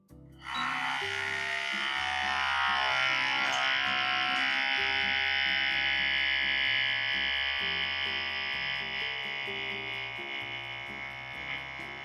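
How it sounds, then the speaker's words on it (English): An Outin Nano portable espresso machine heats and brews with a loud, steady electric motor whine and pump buzz that starts abruptly and runs continuously, fading slightly toward the end. "Once the brewing starts, I will click the timer on."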